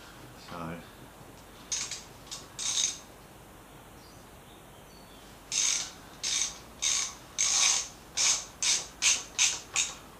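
A ratchet turns a 5 mm Allen bolt on a 2010 Triumph Street Triple R motorcycle brake, giving close clicking bursts, a few scattered strokes then a quick regular series of about ten ratcheting pulls.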